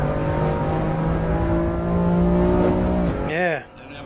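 A race car engine in the sim game Assetto Corsa Evo drones steadily at high revs, then drops off and blips sharply through quick rev changes near the end, loud and close.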